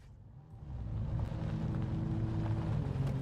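A Jeep Rubicon engine in a modded driving game drones low and steady, swelling slightly after a quieter start and then holding a constant hum throughout.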